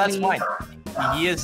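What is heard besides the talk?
Corgi dog barking and whimpering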